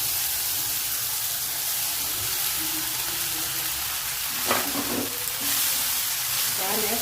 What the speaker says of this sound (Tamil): அடுப்பு சிம்மில் வச்சு நான் ரைஸ் எடுத்துருக்கேங்க, நான் போட்டுக்கிறேன்.